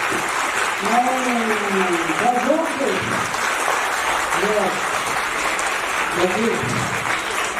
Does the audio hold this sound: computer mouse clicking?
no